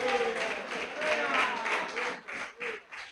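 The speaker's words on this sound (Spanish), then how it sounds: "Tenga un poderoso y fuerte aplauso a Dios que suene" A church congregation applauding loudly and steadily for about three seconds, the dense clapping mixed with a voice speaking over it.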